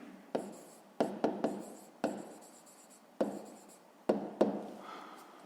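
Chalk or marker writes on a board in a series of sharp taps and short scratchy strokes, irregularly spaced and close, with no talk over them.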